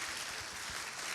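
A church congregation applauds in praise during a Portuguese-language sermon, a steady, dense wash of clapping that fills the whole moment without breaks, moderately distant and even in level.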